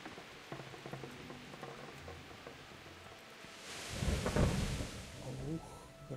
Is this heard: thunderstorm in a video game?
yes